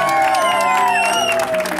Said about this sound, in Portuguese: Pode bater palma que ela merece mesmo